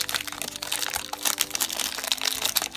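A plastic Num Noms blind bag package is torn and crinkled open by hand, a close run of dense crackling and rustling.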